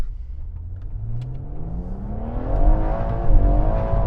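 A BMW M140i running about 400 horsepower revs up close by, its engine note climbing steadily in pitch and growing louder over several seconds.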